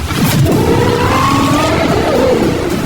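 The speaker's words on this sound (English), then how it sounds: "The reason this car is one of the fastest on the planet is because of its twin turbocharged V8 engine" A supercar with a twin-turbocharged V8 accelerating hard, its loud engine note rising steadily in pitch as it pulls through the gears, heard close up from inside the car with no talk.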